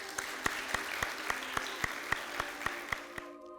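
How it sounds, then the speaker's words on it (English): An audience at a school debate applauds in a steady, dense patter, with a few sharp regular claps standing out above the crowd before it cuts off abruptly near the end. "Let's hear a loud round of applause for our schools"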